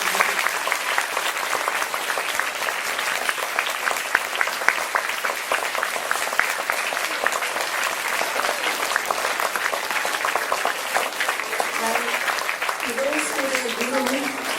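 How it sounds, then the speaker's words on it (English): A large audience gives sustained applause to Kuchipudi dance performers at a school workshop, dense continuous clapping throughout, with a faint voice emerging near the end. "can we have a big round of applause for them?"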